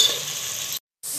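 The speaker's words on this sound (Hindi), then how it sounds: "पहले हम प्याज को फ्राई करेंगे।" Onions frying in a pan, a steady bright sizzle with faint crackle, cutting out briefly to silence before the sizzling returns.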